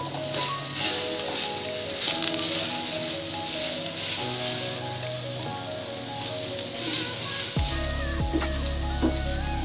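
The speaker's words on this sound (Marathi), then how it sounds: "लो मिडियम गॅसवर आपण आता हा मसाला भाजून घेऊ" Masala with a little chopped coriander roasting in a pan on low-medium gas for a Sankranti mixed vegetable dish, a bright steady sizzle close by, with background tones and a low hum entering near the end.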